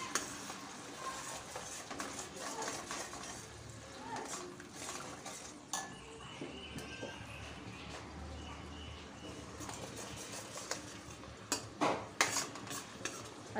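Marinade paste of onion, tomato and chili stirred into a pan of Nagpur Saoji-style chicken curry, with repeated spoon scrapes and clinks against the pan over a faint sizzle, louder knocks toward the end.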